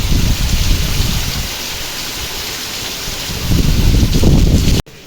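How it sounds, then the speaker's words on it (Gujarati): Steady heavy rain hisses and patters close by, swelling louder near the end before cutting off abruptly. "જો વરસાદ સારું છે"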